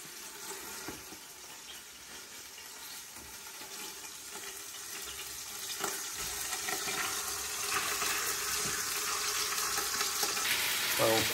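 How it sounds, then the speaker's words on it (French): Meat frying in hot olive oil for a Niçoise daube gives a steady, soft sizzle with faint crackles that grows slightly louder over time, with no talking. "Allez, l'huile est bien chaude, on va faire la viande."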